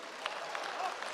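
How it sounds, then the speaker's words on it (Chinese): Short burst of audience applause at a live Chinese crosstalk comedy show, a dense patter of clapping with voices mixed in. "没想到还能引起掌声"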